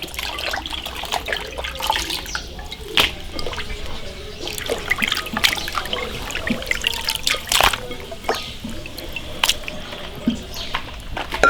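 Pork ribs are rinsed under a running tap to wash out the blood, with trickling water, intermittent splashes and wet clattering close by, no speech.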